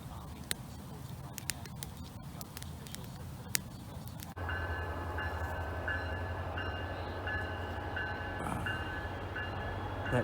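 Train on nearby railway tracks near a campsite: rattling clatter of wagons with sharp clicks and rail noise, then a steadier rumbling hum and squealing tones as it slows and comes to a stop.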